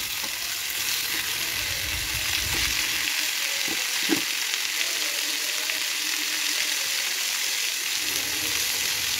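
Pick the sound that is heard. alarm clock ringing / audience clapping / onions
onions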